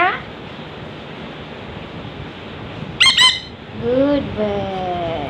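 Sharp squawks from a kaka parrot ring out in a brief harsh burst, then a longer series of wavering tonal calls follows, all close and fairly loud over a constant noisy background.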